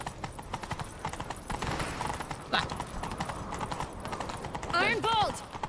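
Roach, a horse in The Witcher 3 video game, gallops with steady rapid clip-clop hoofbeats close by, a neigh rising near the end, while other game sounds fill the background.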